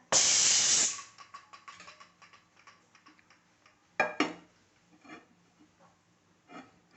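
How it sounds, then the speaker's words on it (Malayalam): A pressure cooker cooking banana stem and green gram lets out a loud, close burst of steam hissing for about a second, followed by quiet clinks and rattles in the kitchen. "മൂന്ന് വിസിൽ വന്നിട്ടുണ്ട് ഒരു വിസിലും കൂടെ വന്നിട്ട് നമുക്ക് തുറന്ന് നോക്കാം"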